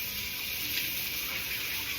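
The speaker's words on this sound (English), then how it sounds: "Let me wash my hands." Tap water runs steadily into a kitchen sink while hands are washed beneath it, a continuous close gushing hiss with no talking.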